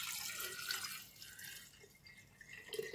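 Water, about 500 millilitres, poured into a jar holding a paste, a faint, quiet trickling and splashing that comes in uneven bursts and fades toward the end, with no voices.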